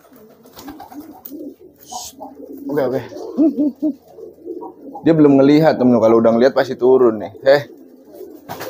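Homing pigeons coo in soft, repeated bursts beside someone talking close by, the cooing swelling louder and denser in the second half.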